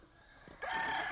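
Free-range village roosters on a traditional country poultry farm near Trimbakeshwar, Nashik, with a clear crow rising in the second half after quieter birdy background, fairly close and loud.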